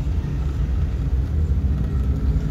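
A car's engine idles and rises into a light rev as the clutch is eased out during a driving lesson, a steady low rumble filling the cabin without talk.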